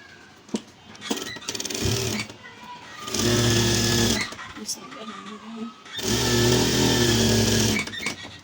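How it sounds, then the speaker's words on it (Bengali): A sewing machine stitching a girls' kameez runs in two long, loud, steady bursts with a shorter run earlier, its motor whirring evenly between pauses while someone talks in the gaps. "দেখুন আমি কিভাবে সেলাই করি সেটা দেখুন।"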